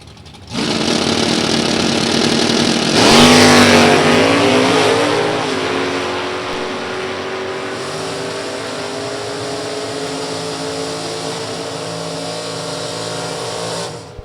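Super Comp drag racing cars, including an automatic Camaro, roar down the drag strip at Gateway Motorsports Park, loud engine noise swelling as they launch and hold a steady high-revving drone for the rest of the run.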